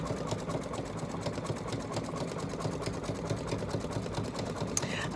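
An embroidery machine stitches out a satin border on a ghostly candy holder, giving a quiet, fast, regular mechanical ticking and whirring that continues evenly throughout.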